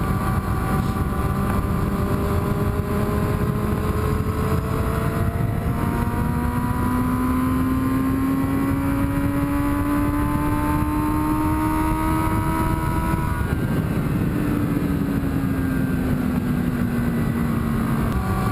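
A low-geared motorcycle engine-braking on a twisty road, its steady drone sliding down in pitch as it slows, with strong wind rush throughout and no talk.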